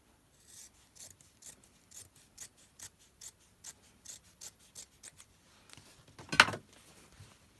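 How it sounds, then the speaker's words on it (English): Scissors snip selvage edges off a long piece of fabric in a quick, even series of about a dozen crisp cuts, followed by a louder rustle of the cloth. "I'm just going to cut those selvage edges off."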